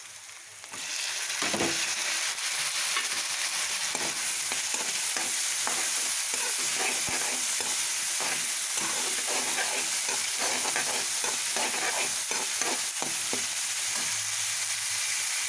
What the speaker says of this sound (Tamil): பாருங்கள், நல்லா வதங்கிச்சு பாருங்கள் வெங்காயம்.